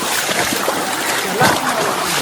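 Stream water in a forest brook splashes and sloshes in a steady broadband rush, close and fairly loud, with a brief louder surge near the end.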